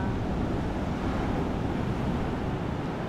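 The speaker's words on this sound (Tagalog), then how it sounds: "Guys, so ang lalakas na ng alon." Strong ocean waves rolling in at high tide around the Magpupungko rock pools in Siargao, a constant loud roar of surf mixed with wind buffeting the microphone, with no voices.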